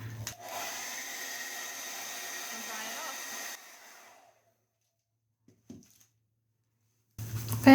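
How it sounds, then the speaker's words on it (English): A handheld hair dryer blows steadily at close range to dry decoupage glue on a fabric tote bag, a loud even whoosh for a few seconds before being switched off, followed by a brief quiet with a small clunk. "Then to make that dry fast, grab your hairdryer."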